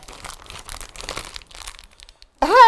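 A plastic piping bag tip is trimmed to fit a coupler during cake decorating, giving soft crinkling and rustling of plastic, then a sudden louder burst at the very end.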